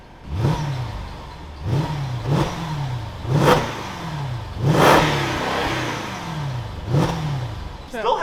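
A Mercedes supercar with its mufflers cut off revs repeatedly at close range, about six sharp throttle blips rising and falling in a raspy, loud exhaust note with brief pauses between.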